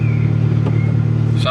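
A Seat Leon Cupra with 129,000 miles idles after starting, a loud, steady low engine hum that runs unbroken, with a brief higher tone near the end.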